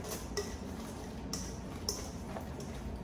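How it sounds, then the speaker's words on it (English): A turkey meatball mixture with breadcrumbs and egg is stirred in a bowl, with a few light clinks of a utensil against the dish spaced irregularly over quiet background. "then you're gonna mix all of that together"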